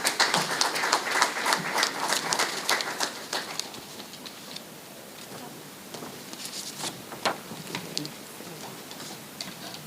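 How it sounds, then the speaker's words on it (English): Audience applause at an evening independence ceremony at the UWI Global Campus in St. Vincent and the Grenadines: a dense patter of claps loud at first, then thinning into scattered, fading hand claps. "Another round of applause, please, for our newly installed head of site."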